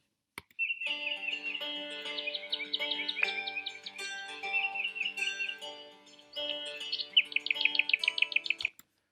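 Bright bird chirps repeat in quick trilling runs over a steady background of tonal tweets, clear and close, with no voices.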